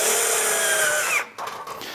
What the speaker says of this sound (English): But as I drill through here,